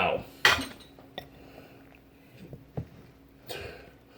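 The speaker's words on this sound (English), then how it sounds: "you want to mix all this so it starts to form a dough." Potato gnocchi dough ingredients are being worked in a bowl, with a few sharp clinks of utensil against the bowl and softer scraping and tapping scattered between them, fairly close and with no talking.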